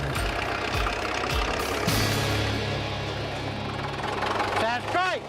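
An old wartime bulldozer engine idles steadily with a low, rough knocking throb, loud and continuous, while people talk over it near the end.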